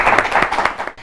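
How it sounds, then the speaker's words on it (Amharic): Students clap for four classmates in a classroom, a dense burst of many hands applauding at close range for about a second before it fades. "ለአራቱም በደንብ አድርጋችሁ አጨብጭቡላችሁ"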